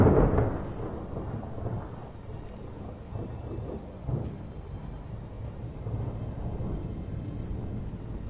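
Thunder from a lightning storm rolls as a deep, continuous low rumble, loud and sustained with a heavier crack near the start and swelling surges throughout, with no voices.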